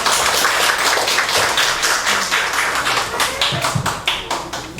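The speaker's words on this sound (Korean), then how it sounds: "박수 한번 쳐주세요" A church congregation claps in unison, loud rhythmic beats in a steady pulse that gradually softens toward the end, with no talking over it.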